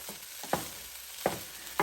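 Bacon fried rice gets stirred in a Power XL cooker, with three or four sharp scraping strokes over a faint steady sizzle, close up and with no voices.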